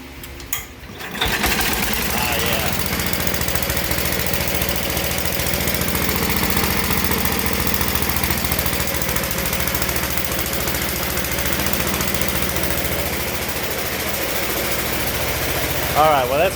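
A Simplicity 3314H garden tractor engine runs and warms up with a loud, steady rattling drone close by, throttle held constant throughout after a brief start.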